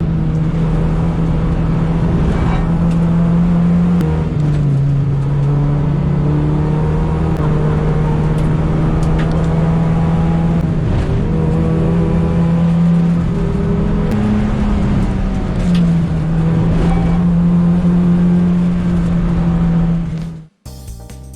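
A Toyota Yaris T-Sport circling Cadwell Park on a track day, its engine droning loud and steady at high revs with small pitch shifts through gear changes, then cutting off abruptly at the end.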